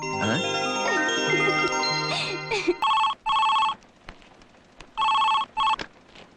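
A telephone rings in a Kannada film scene, two pairs of bright electronic ring bursts sounding after a musical passage fades, with quiet pauses between them.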